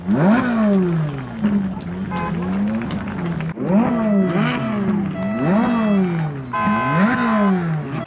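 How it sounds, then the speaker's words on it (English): Classic cars at a car show rev their engines together in a rev-off, repeated rising and falling engine blips overlapping in waves, fairly close and loud, with a few voices faintly underneath. "Quite a weak rev off really, isn't it?"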